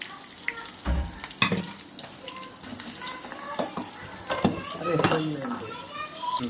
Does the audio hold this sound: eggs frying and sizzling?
yes